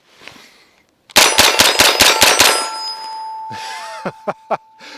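A MAC-5 roller-delayed blowback submachine gun fires at a half-size IPSC silhouette target: a rapid burst of about six sharp shots with metallic ringing, then a lingering tone and three quick, separate shots near the end.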